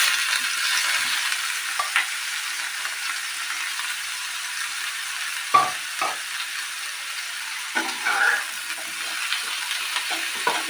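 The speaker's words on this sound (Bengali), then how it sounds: "এইভাবে একটু ফ্রাই করে নেব, আমি সেদ্ধটা তেল অল্প করে ফ্রাই করে নেব।" Boiled young jackfruit fries in a little hot oil, giving a soft, even sizzle with a few sharper spits and crackles, close and without talking.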